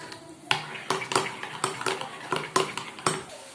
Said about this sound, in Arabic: غادي نخلط المقادير ديالي كاملين